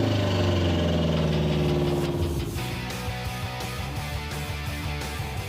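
A car engine idles after a carburetor adjustment, first a smooth steady hum, then settling into a rhythmic, slightly lumpy idle with regular pulses, close and alone.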